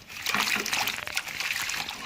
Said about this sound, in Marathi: पाणी ओतायचं याच्यामध्ये आणि मोठ्या भांड्यात भाजी घेतली ना अशी म्हणजे खळा धुवून निघते.